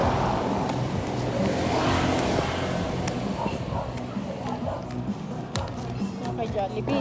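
Road traffic rumbles steadily along a busy street with many cars passing close by in a continuous engine drone and tire hiss, while people talk over it.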